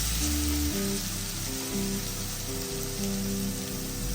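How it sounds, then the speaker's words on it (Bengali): Onions browning in a pan as mustard, garlic, onion and cumin pastes go in for a Bengali rohu fish curry, giving a steady, even sizzle of frying close by with no talk. "পেঁয়াজগুলো ভাজতে ভাজতে বাদামি রং চলে আসলে আমরা একে একে এর মধ্যে সরিষা বাটা রসুন বাটা পেঁয়াজ বাটা এবং জিরা বাটা দিয়ে দিব"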